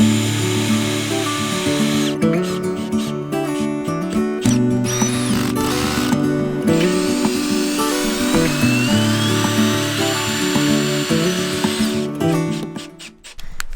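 A power drill drives screws into van bed brackets, its motor whining in repeated bursts that rise and stop, loud and close with short pauses between runs.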